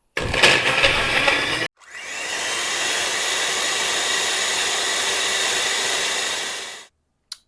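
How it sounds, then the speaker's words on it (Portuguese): A blender whirs steadily for about five seconds, pureeing grated carrot with the other ingredients for a gluten-free carrot cake, loud and close, preceded by a brief burst of clattering noise. "Agora que a gente já bateu no liquidificador a cenoura, né, com os demais ingredientes"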